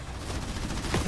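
Gunfire from enemy ground forces in a combat video game: a short burst of rapid, dense shots in a loud, continuous rattle, close and over a rumbling backdrop.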